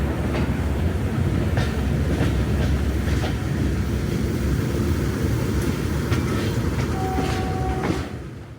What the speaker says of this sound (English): The return journey is worked by West Coast Railways Class 37516 Loch Leyden